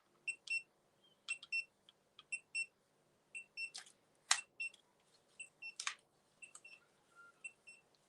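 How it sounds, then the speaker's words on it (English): Repeated short electronic beeps in irregular bursts, clear and fairly quiet, with a few sharper clicks mixed in and no talking. "the beeping noises when you're in the hospital, that's all you hear."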